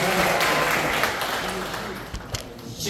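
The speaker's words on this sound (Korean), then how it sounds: "다 뜨겁게 열렬히 큰 함성으로 박수로 가져주시기 바랍니다" Applause and cheering from an audience at a Lions Clubs forum and inauguration ceremony in a large conference hall, a dense steady wash of clapping that fades slightly toward the end, with voices mixed in.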